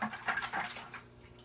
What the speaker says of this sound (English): Quick rinse.